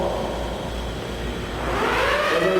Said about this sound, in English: The reason why we need to hit the siren one time